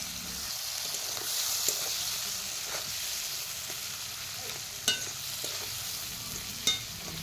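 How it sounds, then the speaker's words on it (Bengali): Onion, green chillies and a fish head fry in a pan with a soft continuous sizzle, and a spatula stirs now and then, making a few sharp scraping clicks. The sound is fairly quiet and close, with no talking. "পেঁয়াজ ও কাঁচা লঙ্কা ভেজে নিব,"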